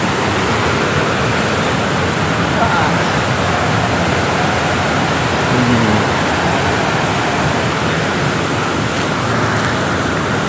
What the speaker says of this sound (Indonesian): Nah, udah kedengar gemuruh air. Yes, dari Sungai Cijalu.